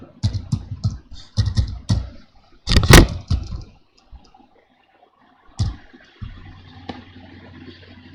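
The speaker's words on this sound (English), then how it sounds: "Like I am typing" Keys on a computer keyboard are pressed in short bursts of close clicking, with a few louder taps and pauses in between, followed by a faint background hum.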